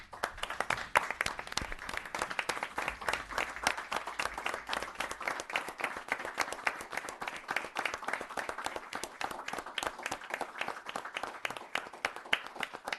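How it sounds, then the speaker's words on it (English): Sustained applause for veterans standing at a town board meeting, a continuous crowd of hands clapping at an even, moderate level for over ten seconds with no voices rising above it. "And I'd like to applaud every one of you."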